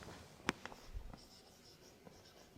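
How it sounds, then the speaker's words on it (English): A pen or chalk writes a heading in a school science lesson, with a sharp tap at the start followed by light, scratchy strokes and small clicks in a quiet room. "let me write down the heading first"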